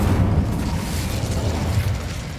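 A fire spell blast cast in Hogwarts Legacy, a loud, sustained rumbling whoosh of flame with a heavy low roar that holds steady and close for a couple of seconds.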